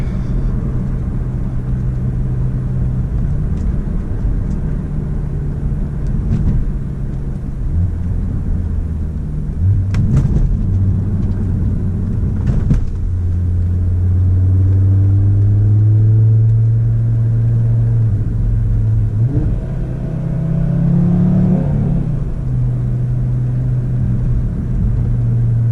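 Audi RS3 five-cylinder engine heard from inside the cabin while driving, a deep continuous drone that climbs and drops through several gear changes with a few sharp transients and a louder rising pull near the end.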